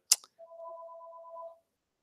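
A telephone rings once with a steady electronic warble lasting about a second, clear and alone after a brief sharp click.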